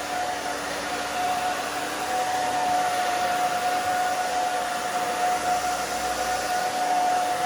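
A hair dryer blows on hair while a round brush or comb lifts it, making a loud, steady whooshing roar with a thin tonal whine that runs without a break.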